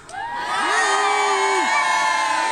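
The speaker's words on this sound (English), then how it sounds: "A huge cheer for the Knights of the Fighting Tournament!" A large crowd at a Dragonslayer show cheers for the knights of a fighting tournament, a loud sustained roar of shouts and whoops with children's voices rising above it.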